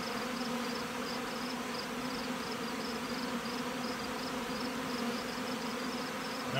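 Bees flying around an open hive nest in late season, a steady faint buzzing hum that continues evenly throughout, with no talking.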